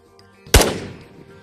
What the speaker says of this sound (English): I can hear firing coming from over there